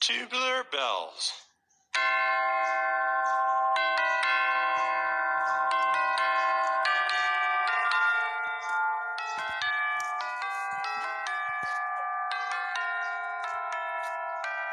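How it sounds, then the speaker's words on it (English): Tubular bells ring out a slow, resonant melody of overlapping long-sustaining chimes with close, clear strikes. A brief different sound precedes them at the start. "Tubular bells."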